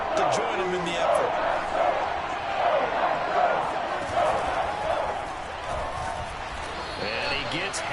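A stadium crowd roars and cheers in a PS5 football video game, a loud, sustained swell of many voices with rhythmic surges, under a commentator's voice talking throughout.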